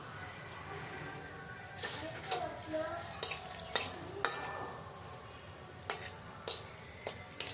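Whole spices—cinnamon, cardamom, cloves, dried whole chilli and bay leaf—tossed into hot oil in a pan, giving light sizzling with scattered clinks and stirring scrapes of a utensil against the pan, moderately close, no talk.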